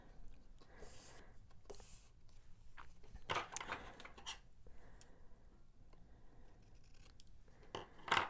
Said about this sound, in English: It's easier to trim it before you glue it in than after.